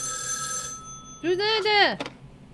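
A telephone in the game Spirit Hunter: NG gives a short electronic ringing burst after a steady tonal hum, the warbling ring fading out abruptly near the end.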